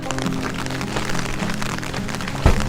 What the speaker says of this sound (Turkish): birazcık yağıyor